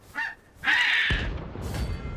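A giant bird monster in Final Fantasy XVI lets out a short, harsh caw, then a longer, louder screech, over a low rumbling battle background with no voices.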